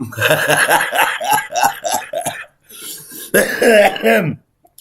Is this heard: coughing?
yes